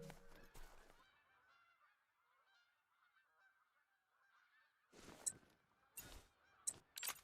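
Snow geese honk continuously in Hunter: Call of the Wild, a layered chorus of calls from a flock at a distance, with several sharp, louder bursts breaking through near the start and end.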